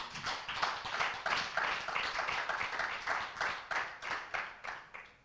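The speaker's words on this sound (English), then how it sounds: "Give the Lord a hand clap" A church congregation at an Easter evening service claps in rhythmic waves, the hand claps pulsing steadily at a moderate distance and slightly muffled throughout.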